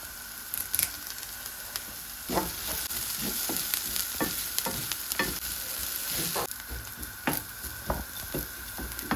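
Chopped onions and curry leaves fry in hot oil in a pan for a ridge gourd dish, a steady sizzle broken by repeated rhythmic scrapes and clinks of a spatula stirring.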